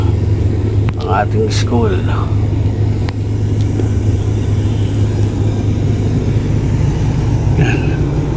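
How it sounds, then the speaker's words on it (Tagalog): Steady road traffic of many cars rumbles past on an early-morning drive to a school, a continuous low engine drone with someone talking over it. "ang dami ng sasakyan"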